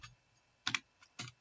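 Several short clusters of keystrokes on a computer keyboard while entering program code, quiet and close, with pauses between the bursts and no talk.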